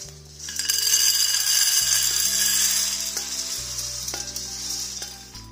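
Rice stir-fried over medium-low heat in a pan, a steady close sizzle with frequent scraping turns of the spatula and a few light metallic clinks throughout.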